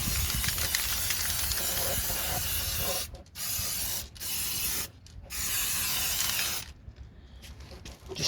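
A spray can hisses as paint is applied to a vehicle wheel, long continuous bursts broken by a few short pauses, close and loud with no voices.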